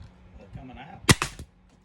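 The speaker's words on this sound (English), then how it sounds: "And then just pop it with a nail gun or the brad nailer," Brad nailer firing a nail into wood, a single sharp close pop followed by a brief clack, with quiet shop noise before it.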